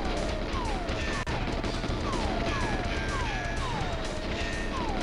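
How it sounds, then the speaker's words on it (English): Gunfire and blasts from the Nintendo 64 shooter GoldenEye 007 fill the scene, a dense, continuous barrage of crashes and shots with repeated falling synthetic tones over steady game noise. "Did I just hear an explosion?"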